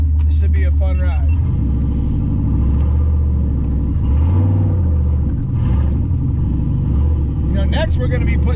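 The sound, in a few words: Foxbody Mustang with GT40 turbo engine accelerating under boost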